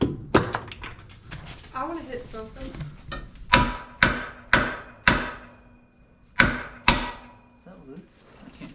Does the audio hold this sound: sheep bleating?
no